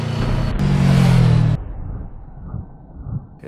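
A Yamaha VMAX motorcycle roars loudly with a strong low engine drone for about a second and a half, then drops off sharply into a quieter, fading rumble with no talking.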